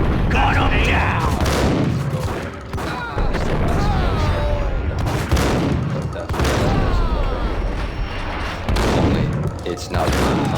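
Gunfire in the shooter Max Payne: repeated heavy shots and booming impacts at a fairly even rhythm, close and loud, with voices and game sound running underneath.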